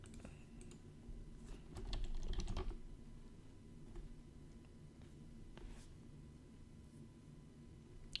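Someone types bank card details on a computer keyboard, with quiet, irregular key clicks in short bursts and a denser flurry in the middle, heard close up in a calm room.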